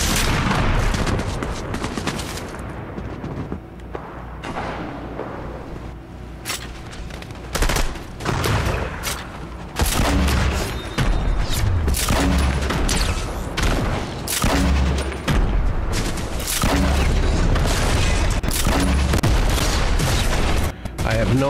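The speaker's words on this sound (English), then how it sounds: "it's a grenade launcher" Grenade launcher fire and explosions in Fortnite, mixed with heavy gunfire. The sound is loud and continuous, with rapid cracks, scattered deep booms and bursts packed together throughout.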